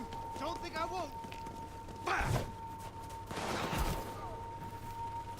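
Gunshots fired by a cop in Bloodlines 2: two heavy, punchy reports a second or so apart over low game ambience, with a voice talking briefly before them.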